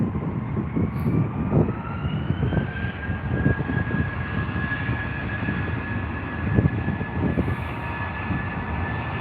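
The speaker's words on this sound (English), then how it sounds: "Another humongous BA flight making its way down here." A large British Airways airliner comes in to land at London Heathrow, a loud continuous jet roar with a rising whine that holds steady throughout, heard close and with no talk.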